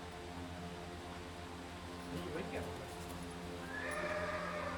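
A horse whinnies in the middle of the clip and again near the end, a rising and falling cry heard over steady background noise and voices.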